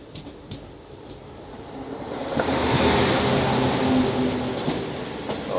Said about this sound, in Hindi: हमारे ट्रेन की क्रॉसिंग हो रही है कोल्हापुर गोंदिया महाराष्ट्र एक्सप्रेस के साथ